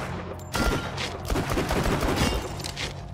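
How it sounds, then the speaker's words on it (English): Explosive auto rifle firing in Borderlands 2, a rapid continuous barrage of gunfire and blasts that starts abruptly after a brief quiet moment and stays loud and dense throughout. "I'm just testing out my, my explosive auto rifle."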